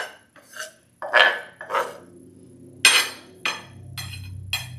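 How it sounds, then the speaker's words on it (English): A knife chops an onion on a cutting board while beef tacos are prepared: a handful of irregular, hard, close knocks with brief silences between them and no speech. "Now we're gonna start cutting our onion, guys."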